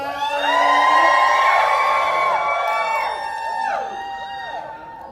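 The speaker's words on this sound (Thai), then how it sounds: "ขอเสียงกรี๊ดหน่อยค่ะ" A cinema crowd screams and cheers loudly together, high shrieks and whoops overlapping in sustained waves that gradually taper off.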